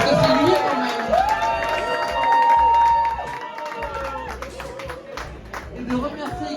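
A crowd claps and cheers steadily throughout at a film festival closing ceremony, with voices and a bright melodic tone rising over the applause.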